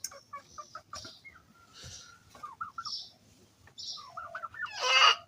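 Turkeys on a small farm, released in the morning from a shed holding about sixty birds, give short, repeated, high clucking and chirping calls in quick bursts, with a louder squawk near the end and no talk.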